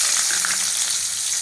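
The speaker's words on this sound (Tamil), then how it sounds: "கடுகு நல்லா பொரிஞ்ச பிறகு தட்டி வச்சுருக்க சின்ன வெங்காயம் போட்டுக்கோங்க." Small crushed onions hit hot oil with popped mustard seeds, giving a loud, dense, continuous sizzle close up with faint crackles.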